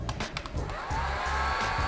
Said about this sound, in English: hair dryer over there that you can hear